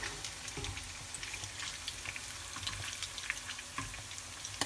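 Paneer cubes frying in a pan until lightly browned, a steady close sizzle and crackle of hot oil with scattered small pops, no voices.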